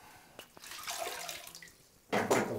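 A small wet rag wrung out into the bottom of a toilet bowl, water trickling and splashing in uneven bursts that end in a louder pour near the end.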